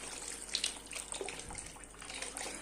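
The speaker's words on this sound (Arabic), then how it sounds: "وهحط عليها الميه ومرق الدجاج برده اهي عشان تزود الطعم حلاوه" Water and chicken broth are poured into a pot of simmering green peas, giving a soft, steady trickling splash that is faint and close, with no talking.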